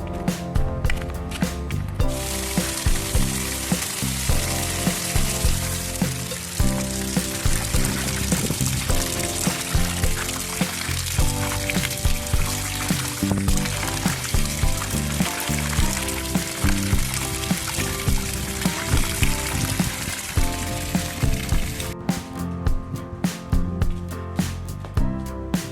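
Freshly harvested corn gets washed with water, which pours and splashes continuously and close by in an uneven rhythm for the whole stretch.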